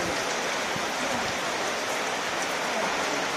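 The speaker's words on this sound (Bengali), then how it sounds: "রাস্তায় কি পরিমাণ বৃষ্টি হচ্ছে" Heavy rain pours at midnight in the Sundarbans, a dense continuous hiss of drops on surfaces and standing water, steady and close, heard alone.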